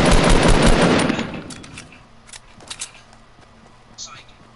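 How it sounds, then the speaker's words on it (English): A burst of loud, rapid video game gunfire opens the moment, a dense rattle that cuts off after about a second and a half, leaving scattered faint clicks and a low hum. "he keeps shooting my way"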